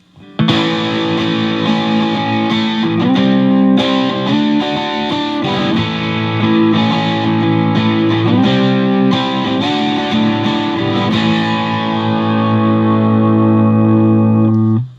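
An electric guitar played through a Pro Co Rat distortion pedal with the distortion turned up to about three o'clock, giving loud, saturated sustained chords and notes that ring out one after another, alone with no talking.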